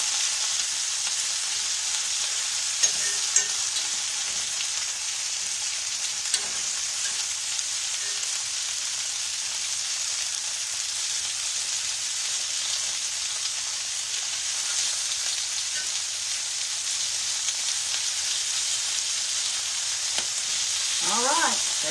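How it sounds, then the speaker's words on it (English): Onions sizzle steadily in a hot, partly covered pan as they are smother fried, a dense crackling hiss that runs the whole time, with a few faint clicks and taps. "It's almost like we're smother frying them."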